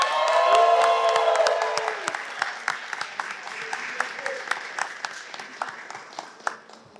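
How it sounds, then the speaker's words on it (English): Applause breaks out for a bill's sponsor at a press conference at the New York State Capitol. A voice rings out at the start, then scattered claps and whoops taper off gradually. "let's give one big round of applause to Senator Cooney for sponsoring the bill"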